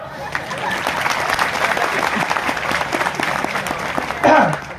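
A large audience at a Buddhist Dhamma conference clapping loudly and steadily, a dense, close, sustained applause with a brief voice rising over it near the end.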